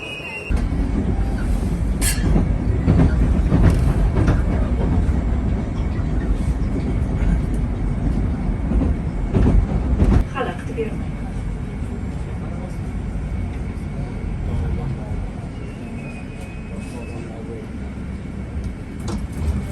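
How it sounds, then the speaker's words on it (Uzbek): A metro train pulls into a station with a loud, steady rumble and clatter of wheels and cars that eases slightly toward the end. "Metro keldi."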